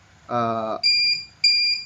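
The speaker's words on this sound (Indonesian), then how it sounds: "buzzer akan berkedip secara pelan, sedangkan apabila jaraknya di bawah 2 cm, maka buzzer akan berkedip cepat" An ultrasonic sensor circuit's buzzer sounds a low buzzing tone followed by two short, higher electronic beeps, close and clear with no talk.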